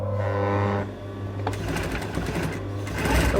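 Sewing machine stitching a back tack at the start of a curved seam on a baby doll dress, a steady close motor whir with a brief pause and change in rhythm midway as the stitching reverses.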